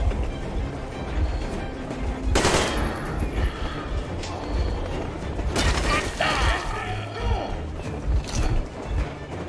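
Gunfire and mechanical clatter in the video game Metro Exodus, with two loud sharp bursts standing out amid a busy, rumbling battle backdrop.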